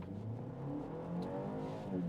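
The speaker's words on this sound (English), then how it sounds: "we're going to give it another 0 to 60 acceleration" A 2024 BMW X2 xDrive28i launches from a standstill in a full-throttle 0 to 60 run, its engine note rising through the gears in a steady, moderately loud pull heard from inside the cabin.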